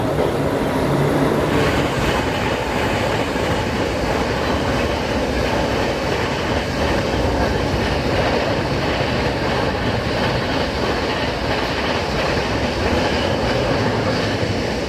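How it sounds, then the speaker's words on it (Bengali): A passenger train pulling out of Paras station toward Bardhaman in West Bengal, heard from on board as a loud, steady rumble with rhythmic wheel clatter on the rails throughout. "আমাদের ট্রেন কিন্তু এখন পারাস স্টেশন ছাড়লো"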